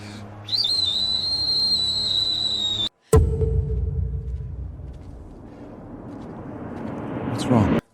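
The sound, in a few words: whistle blown as a signal to summon gladiators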